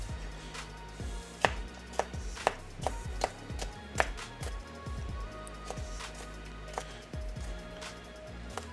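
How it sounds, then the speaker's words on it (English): A knife chops a bell pepper on a cutting board with a steady series of sharp, close thumps, some heavier than others, each with a brief wooden knock and no talking. "because I chopped a bell pepper the wrong way"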